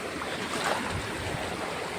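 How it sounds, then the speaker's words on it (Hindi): Fast-flowing river water rushes steadily and loudly nearby, a constant broadband roar with some wind and no speech. "ये देखो पानी कितना रफ्तार से जा रहा है इस तरफ"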